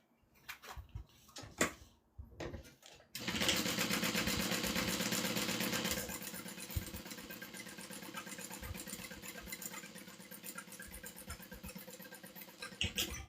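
Sewing machine running a top stitch along a bag panel, a near, steady whirring hum with fast needle ticks, preceded by a few handling knocks and brief quiet, then sustained motor drone.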